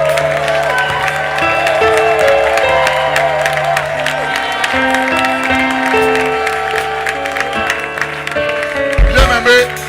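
A church congregation applauding and cheering during a sermon, a dense, loud, continuous wash of clapping and voices with musical tones running underneath and a louder flurry near the end.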